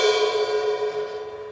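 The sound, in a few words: 16-inch crash cymbal (AA series) struck on its shoulder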